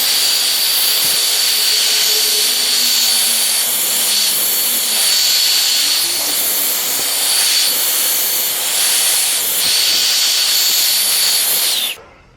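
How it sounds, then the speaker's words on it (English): Continuous loud hiss and roar of a heat gun warming the rear badge on a Ford Fiesta MK6, steady blowing airflow for about twelve seconds before it cuts off abruptly. "I'll heat it up first and I'll see how loose I can truly get it"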